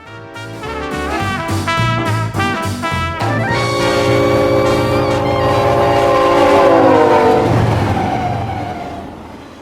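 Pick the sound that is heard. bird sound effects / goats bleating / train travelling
train travelling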